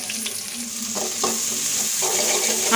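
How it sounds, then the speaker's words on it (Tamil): Chopped onions sauté in oil in a pan for pepper chicken, producing a close, continuous frying sizzle with light stirring scrapes and no voices. "ஆனியன் நல்லா பொன்னிறமாக மாறுற வரைக்கும் வதங்கிக்கிறட்டும்."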